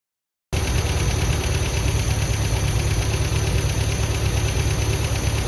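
A 1973 MGB engine, revived after sitting for 20 years, idles steadily and close by with a constant rumbling drone and a faint high whine, no talking over it.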